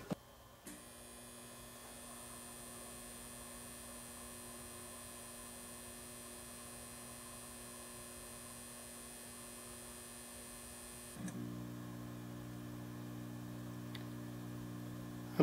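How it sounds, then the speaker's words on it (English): Kim Lighting HID wall lamp starting up: a steady electrical ballast hum with a thin high whine, then a click at ignition as the buzz shifts lower and grows louder, heard indoors with no voices. "I love the sound the ballast makes when it hits."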